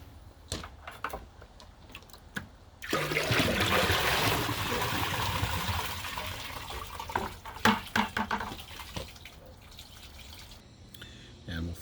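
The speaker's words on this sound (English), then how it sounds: "Here's the 1 gallon flush on the Rockwell." A Kohler Rockwell toilet flushed by dumping one gallon from a bucket: a sudden loud rush of water that runs for several seconds, then settles into trickling and drips with a few knocks nearby.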